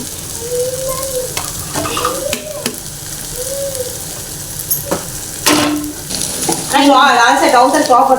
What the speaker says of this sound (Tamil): ரெண்டு முட்டையை உடச்சி ஊற்றியாச்சு ஃப்ரெண்ட்ஸ் நல்லா கிண்டிக்குவோம்